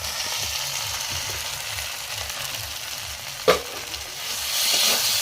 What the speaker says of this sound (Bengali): এরপর আলু এবং পটল ভাজাটাকে দিয়ে দেওয়া হচ্ছে মশলার মধ্যে।